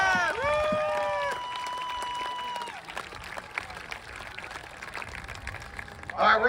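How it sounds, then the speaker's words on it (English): A school assembly crowd breaks into applause, with whistle-like tones and voices rising over steady clapping that thins out before a louder burst at the end. "Let's give his mom, Mrs. Hallock, a round of applause."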